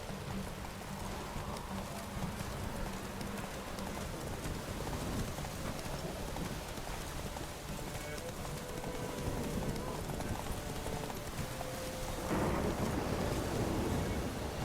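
Roach the horse gallops in The Witcher 3, a steady drumming of hooves under rain and thunder, with a voice speaking over the ride.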